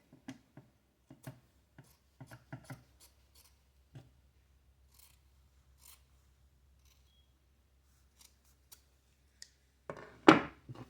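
Scissors cutting mesh fabric for a wrap skirt, heard as scattered quiet close snips and clicks, then one louder rustling cut near the end.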